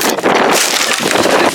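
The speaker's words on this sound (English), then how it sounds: "Really windy out here today" Strong wind gusts outdoors during a blizzard, roaring and buffeting against the microphone in loud, uneven bursts.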